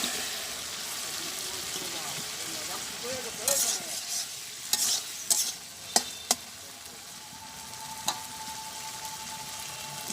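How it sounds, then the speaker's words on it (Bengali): Potatoes stir-fried in a spice paste sizzle steadily in a pan, close and fairly loud. Spoon scrapes and clinks come in a short cluster near the middle, with a faint voice in the background. "আমি এখন এর ভিতরে আলু দিয়ে কষাই নেব"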